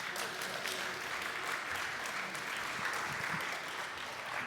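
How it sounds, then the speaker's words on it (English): Steady, dense applause from a conference audience at a tech summit fills the room continuously, a broad even wash of clapping with no pauses. "This is the right moment to applause."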